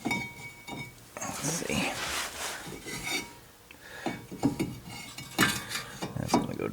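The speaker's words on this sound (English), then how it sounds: "now we're gonna reinstall the caliper bracket." A caliper bracket on a 2015 Toyota RAV4 Limited is put back onto the front brake assembly, giving close metallic scraping, rubbing and clinking while someone speaks briefly.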